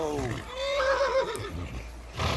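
A horse neighs in the medieval video game Kingdom Come Deliverance 2, a loud, close whinny that rises and trails off. Game ambience plays underneath.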